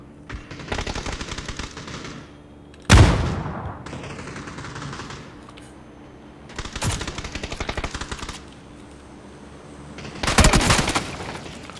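Gunfire in the PUBG PC video game comes in several loud, close bursts of rapid automatic fire, separated by quieter stretches of scattered shots.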